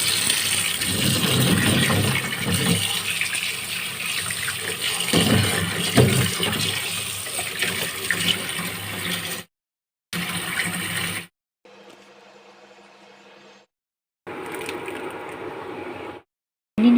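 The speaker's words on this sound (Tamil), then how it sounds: "தண்ணி நல்லா கொதிச்சிருச்சு." Water bubbles and churns vigorously in a pot for boiling tubers, a steady rushing boil broken by abrupt cuts to silence and a short quieter stretch.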